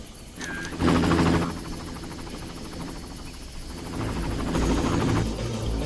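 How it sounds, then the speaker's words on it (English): A helicopter in the Far Cry video game drones steadily at moderate loudness with a continuous rotor hum, swelling slightly near the start and again toward the end, with no voices. "Where's that helicopter?"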